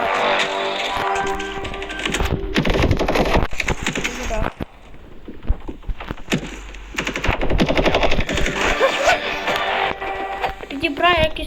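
Kalashnikov automatic rifle bursts in a video game, loud rattling volleys repeating through the clip with a brief lull in the middle, mixed with game effects and players talking over it.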